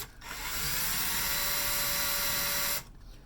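A drill bit bores into the base of a thermal fuse element with no tapping oil, giving a steady, whining power-drill run of about two and a half seconds. The drill starts and stops cleanly, and it is close and loud.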